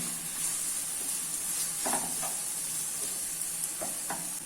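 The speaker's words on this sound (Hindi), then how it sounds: "ऑनियन को मीडियम फ्लेम पे गोल्डन ब्राउन होने तक फ्राई कर लेना है" Finely chopped onions fry in oil in a pan over a medium flame, giving a continuous hissing sizzle broken by a few scraping stirs, heard close and with no talking.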